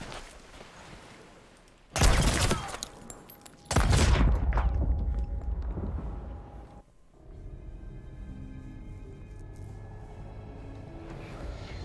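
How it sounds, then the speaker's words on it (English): Grenades burst at a player's feet in the Sea of Thieves video game: two loud, sharp blasts about two seconds apart, each leaving a rumbling tail, then a quieter stretch of ambient game sound. "Let's take some grenades and just chuck them at my feet."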